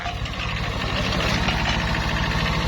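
A Kubota two-cylinder engine idles steadily and evenly at close range, a continuous low rumble with a faint knock, alone without talk.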